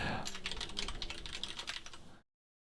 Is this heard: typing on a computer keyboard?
yes